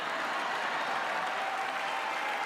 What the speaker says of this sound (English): It's literally just the front right there, that little front of the room clapping.